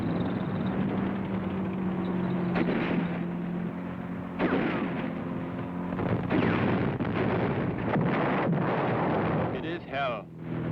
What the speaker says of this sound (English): They are shooting all around us.